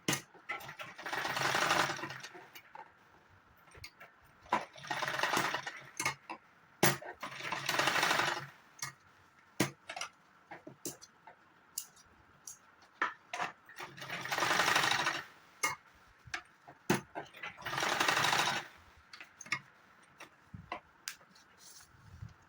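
A sewing machine stitches strips of buckram with elastic between them for a saree belt, running in roughly five loud whirring bursts, with quiet clicks and handling between runs.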